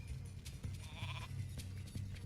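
A sheep unit bleating in the real-time strategy game Warcraft 3, with repeated nasal bleats layered over a busy, steady game soundscape and no voices.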